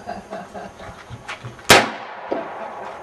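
A single sharp lever-action rifle shot, loud and near, cracking out mid-clip and fading with a short outdoor echo over faint background murmur.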